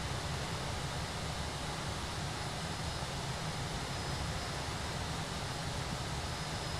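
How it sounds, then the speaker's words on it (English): Fenix A320 airliner taking off in Microsoft Flight Simulator, a steady broad engine roar with a hiss of rushing air, held at an even level throughout, moderately quiet and with no talking. "There's the takeoff."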